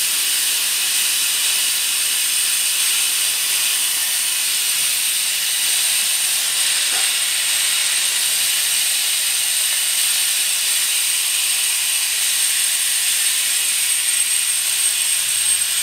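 An oil extraction machine pumps engine oil out of a 2011 Nissan Juke 1.6, giving a constant, even hiss that holds unchanged from start to finish with no voices.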